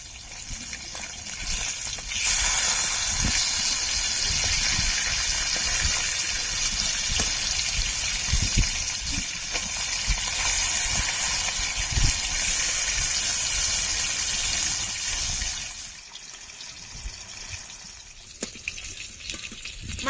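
Rohu fish pieces fry in hot oil in a pan while cooking a Bengali curry, giving a steady, loud, hissing sizzle that goes on for many seconds and eases near the end, with no speech.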